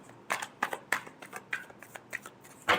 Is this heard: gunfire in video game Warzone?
no